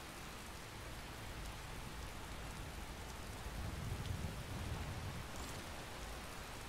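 Steady rain falls in Skyrim, a modded game set in an open fantasy world, as a continuous hiss of drops at an even level that swells slightly toward the end, with no voices over it.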